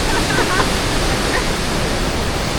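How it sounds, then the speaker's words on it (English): Waterfall at Little Egypt, Tennessee, roaring as a steady, loud, broadband rush of falling water close by, continuous throughout with no pauses. "I want to come and see more waterfalls."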